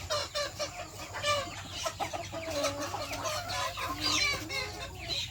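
Young chickens cluck and chatter close by in a backyard coop during the rainy season, a busy overlapping stream of calls over a low background hum.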